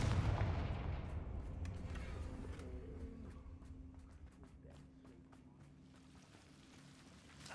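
A Confringo fire spell blast in the Hogwarts Legacy video game, a booming rumbling explosion at the start that decays into scattered crackles and small impacts, fairly faint overall, with no talking.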